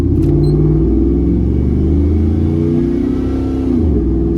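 A loud, deep 4.8-liter V8 engine in a 2004 Chevrolet Silverado regular cab pickup rumbles and revs up steadily, its low growl rising in pitch as the truck accelerates, close to the listener.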